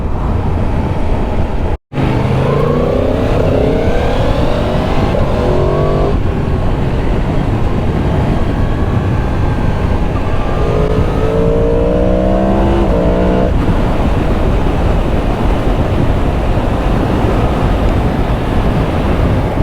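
A 2022 Yamaha MT10 motorcycle accelerates hard on a test ride, its engine rising through the revs in repeated sweeps over steady wind roar, with a brief dropout near the start.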